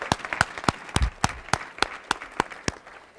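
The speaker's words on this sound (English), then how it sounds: "Let's give him another round of applause." Applause at a college State of the College event comes through as distinct, spaced hand claps in a loose, steady rhythm of roughly three per second, fairly close and clear.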